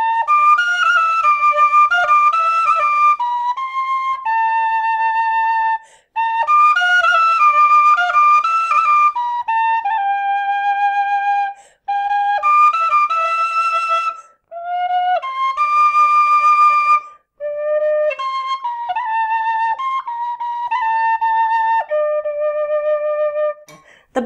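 A Clarke penny whistle with a slightly raspy tone plays a clear melodic tune of sustained notes and quick runs, alone and close, with short pauses between phrases.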